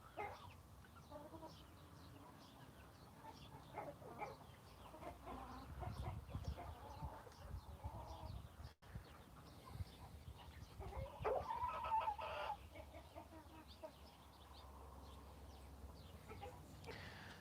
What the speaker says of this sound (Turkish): gördüğünüz Brescia horuzumuz